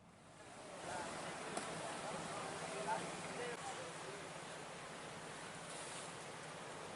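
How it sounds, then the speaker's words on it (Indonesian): High waves crash along the shore of Mandra Beach in Kolaka, Southeast Sulawesi, during extreme weather with strong wind, a steady broad roar of surf and gusts that swells slightly and holds at moderate loudness. "Angin kencang disertai gelombang tinggi menghantam sepanjang bibir Pantai Mandra dan Pantai Ria"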